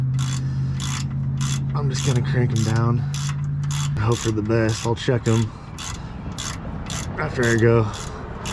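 A ratchet tightens bump stop bolts on a third-generation Toyota Tacoma, giving rapid clicking pawl strokes in quick repeated runs, close and loud, while someone talks briefly over it.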